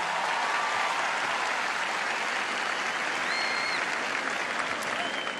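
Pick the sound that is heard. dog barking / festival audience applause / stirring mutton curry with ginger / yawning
festival audience applause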